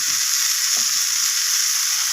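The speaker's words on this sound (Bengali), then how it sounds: "তো আবারও সমস্ত কিছু এইভাবে কষিয়ে নিচ্ছি।" Vegetables sautéing in hot oil with garlic and ginger paste, a steady loud sizzle throughout with faint stirring scrapes underneath.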